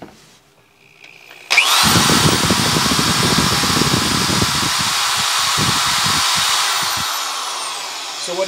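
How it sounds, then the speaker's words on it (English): After a short quiet moment, an old DeWalt cordless drill whirs up loudly and runs steadily for several seconds, its motor buzzing close by before winding down. "I can turn on a drill. Here's my old DeWalt drill."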